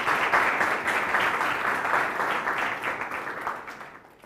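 An audience at a school panel discussion on higher education applauds to welcome a maths subject expert: a dense, steady wash of clapping that stays even, then tapers away near the end, with no speech over it.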